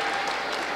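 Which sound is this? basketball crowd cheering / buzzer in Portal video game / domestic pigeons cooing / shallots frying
basketball crowd cheering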